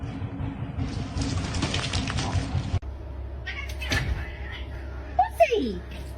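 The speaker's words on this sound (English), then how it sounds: "meow." A pet cat sitting in a see-through seat meows, a drawn-out rising and falling call near the end after a stretch of rustling and a clunk, with a person talking earlier.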